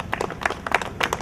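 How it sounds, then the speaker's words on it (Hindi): A small crowd claps at a retirement ceremony, a light, rhythmic patter of hands rising and falling in short waves at moderate distance. "तालियां बची रहनी चाहिए साथियों।"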